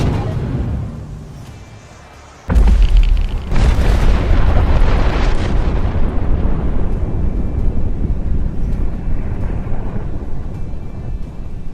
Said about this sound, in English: With an earth-shattering explosion over in a second, we destroyed the Enclave onslaught before it even began